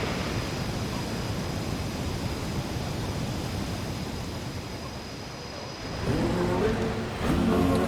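The Mandenga waterfall in Eswatini pours in a steady broadband rush, heard close and continuous. Near the end a voice and other sounds join over the falling water.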